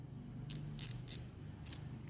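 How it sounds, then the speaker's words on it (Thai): A few short, crisp mechanical clicks in quick bursts, close and fairly quiet, from the drag of a 2021 Daiwa Alpha fishing reel ratcheting, over a low steady hum. "เบรกมีคลิกเสียงนะครับ"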